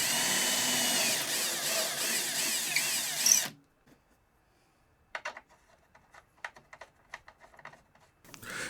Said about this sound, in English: I only drilled 2 holes at first